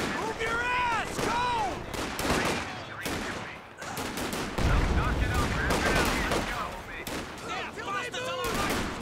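Machine-gun bursts and battlefield gunfire from the World War II strategy game Company of Heroes, in a 4v4 Nordwind match, rapid and loud throughout and layered with game voice barks and mixed explosions.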